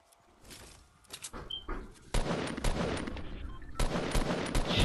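Video game gunfire crackles in scattered bursts, then turns into dense, rapid automatic fire that grows louder and nearly continuous, with a fresh surge of shots toward the end.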